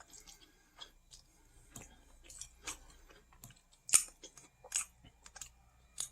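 Low carb, gluten-free rice being chewed up close, with soft irregular chewing and crunching sounds and small wet clicks spread across a quiet background and no talking.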